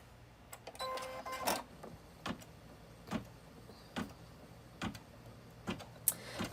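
An embroidery machine stitches down quilt batting for a wall hanging, giving a steady run of sharp, fairly quiet mechanical clicks and whirs at close range with no voices.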